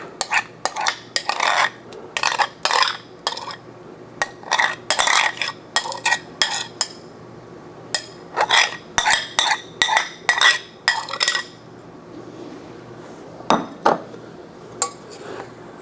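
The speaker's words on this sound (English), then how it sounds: "In a medium bowl, combine the flour and the yogurt to form a shaggy dough." Flour and yogurt being stirred into bagel dough in a medium bowl, a spoon scraping and clinking against the bowl in rhythmic bursts, close and clear, with short pauses between strokes.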